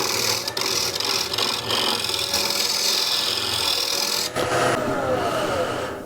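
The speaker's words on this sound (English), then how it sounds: "Now for the rim, I like to use a spindle gouge." A spindle gouge cutting the rim of a cross-grain wooden box on a lathe, producing a loud, continuous close-up shearing and rasping hiss with brief dips where the tool lifts, and no voices.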